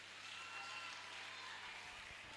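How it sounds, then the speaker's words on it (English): A small audience at a menstrual hygiene awareness day event claps for a speaker, steady faint applause that stays even throughout with a little voice underneath. "Let's clap for her."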